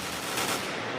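A Famas rifle fires in a Counter-Strike match on the map Nuke, a dense, continuous stream of rapid automatic shots, loud and close, with no voices over it.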